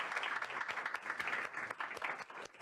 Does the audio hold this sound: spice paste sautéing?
no